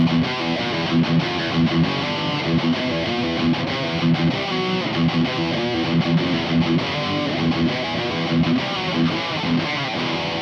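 A Mooer GTRS W900 headless electric guitar plays through its own built-in distorted tones, a thick, sustained riff with steady chugging rhythm and no talking.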